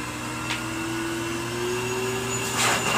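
A pet blower runs steadily while drying a dog after its bath, a loud continuous whooshing hum with a slowly rising whine, close up and without speech.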